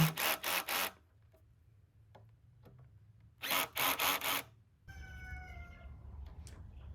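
A drill bores marked holes in wood for an outdoor pull-up bar, heard as two close bursts of three or four quick, loud revs separated by a quiet pause, followed by softer background sound.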